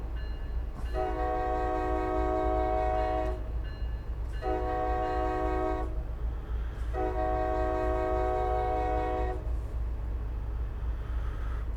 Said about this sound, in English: Oh, that's the bloody horn.